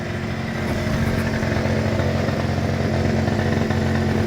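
Small Yamaha Jog moped engine idling steadily close by, a continuous buzzing putter with a fast even rhythm and no talk over it.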